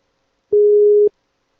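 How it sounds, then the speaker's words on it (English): One ring tone on an outgoing Twilio phone call, a single steady electronic beep lasting about half a second, clean and loud against silence. "I hear it ringing"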